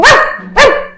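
A dog lets out two loud, close barks about half a second apart, each sharp and tonal, with nothing else around them.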